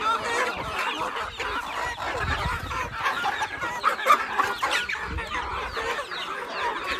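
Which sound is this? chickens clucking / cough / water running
chickens clucking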